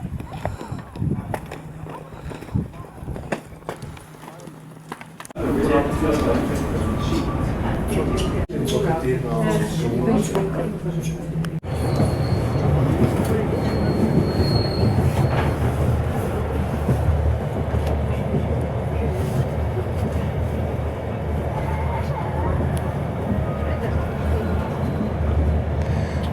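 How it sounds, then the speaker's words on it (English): Continuous rumble and rattle of a train running along the tracks, loud and steady, with a voice speaking over it, on a line to Tirano in the Swiss Alps in freezing weather. "On the train heading back"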